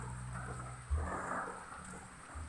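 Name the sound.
heavy rain with thunder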